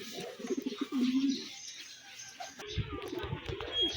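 A racing pigeon at a derby race coos nearby in low, throaty bursts, with soft rustling and background noise around it.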